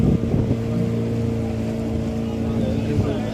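A steel high-speed fishing trawler engine droning on the sea near the coast, a steady low hum with wind buffeting the microphone, continuous and close throughout.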